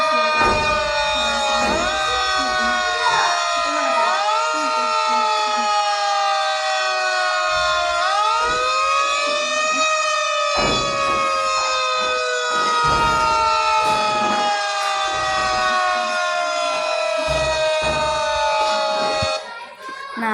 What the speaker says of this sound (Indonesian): ini kakak putarkan bunyi sirine ya